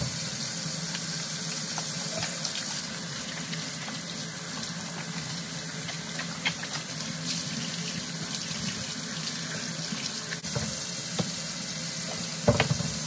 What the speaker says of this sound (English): Turn my hot water on. Wash my hands.